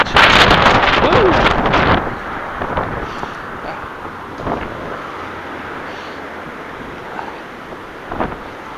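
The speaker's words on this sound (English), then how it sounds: "Walking in the wind" Strong wind blustering against the microphone while someone walks outdoors, loud and rough at first, then easing into a softer steady rush with occasional gusts.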